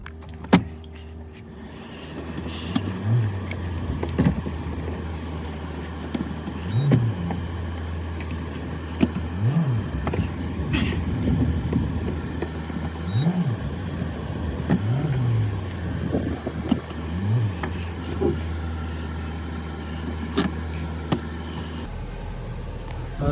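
A Hyundai Verna SX sedan with 32,000 km on it is being driven, its engine a steady low hum with a handful of gentle revving swells spread across the run and no talk over it.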